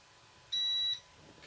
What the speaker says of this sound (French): vous avez entendu le bip quand vous avez démarré la bécane